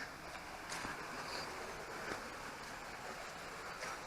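The River Bourne flows beneath a footbridge by Winfield Mill in Plaxtol, giving a soft, steady rush and trickle of moving water with faint wind, continuous and fairly quiet throughout.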